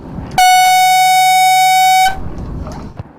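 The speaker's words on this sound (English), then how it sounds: "In fog, sound is more important than vision, so a gas canister foghorn is required." A single loud, steady blast from a gas canister foghorn on a small boat sounds for nearly two seconds, then cuts off abruptly, leaving quiet background noise.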